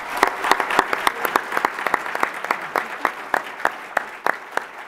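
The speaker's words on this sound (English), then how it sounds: "I just want to give them a round of applause." Audience at a university innovation expo keynote applauding the event organizers, a steady burst of many overlapping handclaps with a crisp irregular rhythm, moderately close and loud, no voices over it.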